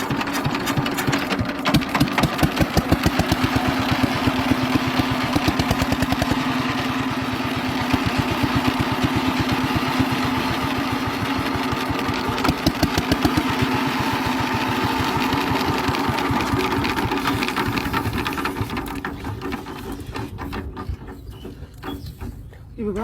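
A small engine-driven water pump runs steadily up close, a loud continuous buzzing drone with a rapid mechanical rattle that holds for about twenty seconds before tapering and sputtering near the end.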